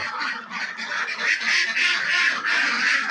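Ducks on a farm quack and honk in a dense, continuous close-up chorus, many birds calling over one another at a steady, fairly loud level with no talk.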